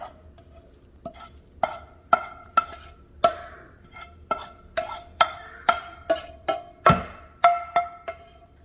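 Sautéed vegetables are added to cornbread dressing and stirred in, heard as a steady run of bright, ringing clinks of a utensil against the bowl, about one or two per second, close and clear with quiet gaps between.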